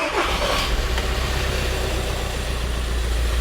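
A VW T5 camper van engine starts and settles into a steady low idle, close and fairly loud, with no talking.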